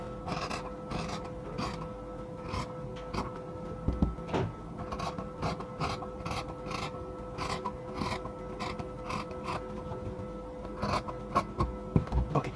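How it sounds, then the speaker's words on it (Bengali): Fabric being cut for a nightie gives a steady series of soft rasping snips and scrapes, quiet and close, in an irregular rhythm. "চারদিক থেকে সমান করে কাটিং করে নিচ্ছি আগে"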